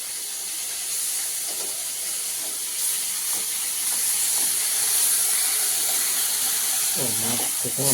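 Fish frying in a pan in a home kitchen: a steady, broad hiss of hot oil runs the whole time, fairly close, with a few faint utensil knocks and a louder clatter near the end.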